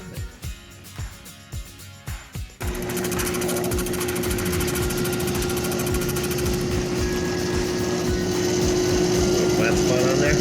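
A faceting machine grinds a 48 carat Shaver Lake amethyst, its steady high motor whine and cutting hum running continuously after a few brief knocks and clicks at the start.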